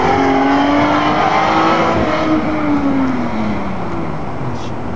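Twin-turbo Toyota Supra holding a steady, loud engine roar with tire noise as it spins a 360, the pitch sweeping gently up and down, crowd voices faint in the background.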